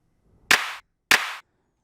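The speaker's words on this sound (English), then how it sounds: "You can hear it's just the normal clap" Two dry clap samples from an Afro beats and Bongo beat remake, no reverb, each a sharp, bright, isolated hit with a short tail, evenly spaced in silence.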